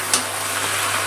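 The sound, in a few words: spinach frying with hilsa fish head in a pan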